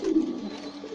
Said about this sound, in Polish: Lubię takie czarne gołąbki całe, ciemne.